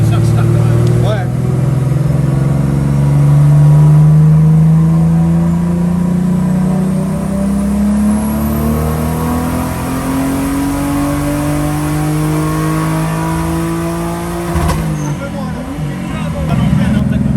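A turbocharged BMW E36 engine held at high revs and climbing in pitch, a loud, close, sustained drone with whine on top, dropping off sharply near the end, with voices talking over it.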